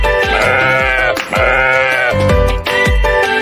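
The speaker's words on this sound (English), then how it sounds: "They are sheep. Sheep say ba-ba." Sheep bleat loudly and close by in a farm setting, a few long wavering calls following one another with short gaps.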